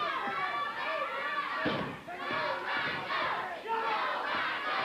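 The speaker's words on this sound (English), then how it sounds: "The fans cheering here in the USWA." A wrestling arena crowd at a USWA event cheers and shouts, loud and close, with swelling roars, scattered yells and a few thuds from the ring mixed in.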